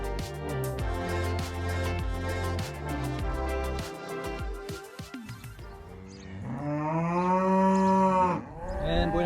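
Cattle moo out in open countryside fields in Cantabria, Spain, with several long, loud, drawn-out calls following one another close by and no one speaking.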